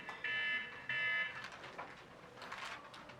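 An electronic alarm beeps in two short bursts, followed by softer rustling sounds.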